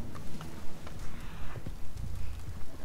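Steady clip-clop of horse hooves trotting in Red Dead Online, the rhythmic beats fairly close, with faint background game ambience and no speech.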